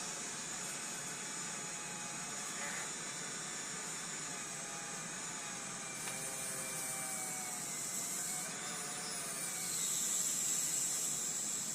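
A small polishing wheel loaded with jeweler's rouge runs against Thompson Center Encore trigger parts, a steady whining hiss with faint shifting tones as parts are pressed to it, close and alone.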